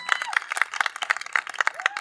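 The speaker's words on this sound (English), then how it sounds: "Give her a big round of applause" A crowd applauds a woman performer with a steady patter of claps, moderately loud, with voices mixed through it.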